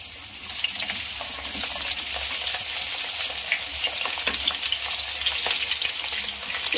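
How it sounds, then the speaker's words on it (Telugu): Chopped onions frying in hot oil in a pan, a steady close, dense sizzle with crackling pops and occasional stirring scrapes throughout, no voices. "ఆనియన్స్ కొంచెం బాగా ఫ్రై అవ్వాలి"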